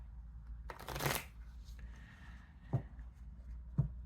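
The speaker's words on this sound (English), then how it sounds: "Meanwhile, let's just get the cards shuffled up." Tarot cards being shuffled, a quiet riffling burst followed by a few soft, separate taps of cards squared together, close and faint.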